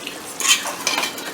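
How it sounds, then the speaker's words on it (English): A spoon stirring roasted vermicelli into boiling water in a metal pot for vegetable biryani vermicelli, giving a short run of clinking, scraping strokes, close and moderately loud, with no talking. "Give a mix."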